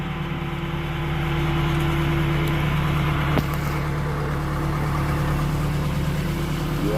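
A tractor engine idles steadily while the tractor is loaded during a cleanup in the GIDC Navapara area of Wankaner. The drone is continuous and close, with one sharp knock partway through.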